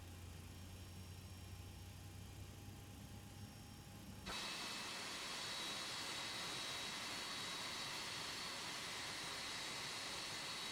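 Jet engines spool up on a 767 in a flight simulator. A low steady whine jumps abruptly into a louder, broadband roar that holds evenly, with thin high tones running through it.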